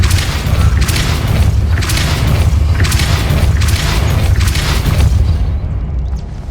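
Depulso force spell impacts in Hogwarts Legacy, a series of repeated heavy booming thuds roughly once per second over a deep rumbling bed, loud and close.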